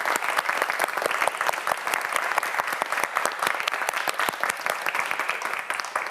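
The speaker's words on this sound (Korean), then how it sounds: "오늘 열심히 해준 신동혁 학생에게 큰 박수 보내주시기 바랍니다" A studio audience gives a quiz show student contestant a round of applause, brisk, dense clapping from many hands that stays steady and close for several seconds.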